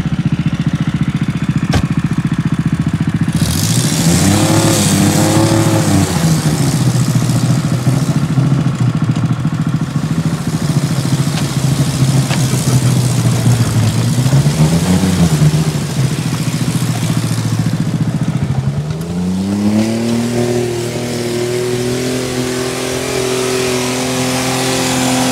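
A car loops around on freshly fitted tires, its loud engine revving up and down in long swells and holding high revs between, close and continuous for the whole stretch.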